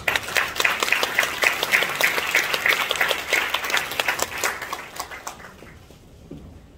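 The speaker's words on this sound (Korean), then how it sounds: "나오실 때 큰 박수 한번 주세요" A church congregation at a 50th-anniversary ordination service applauds as the preacher comes forward, brisk rhythmic clapping from many hands that gradually thins and fades after about five seconds.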